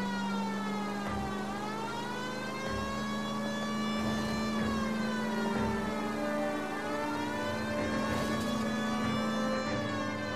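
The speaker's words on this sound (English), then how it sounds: "I might as well just keep on the siren before I crash into everything." A police car siren wailing continuously in the L.A. Noire video game during a city drive, rising and falling loudly over a low engine drone, with a few brief bumps.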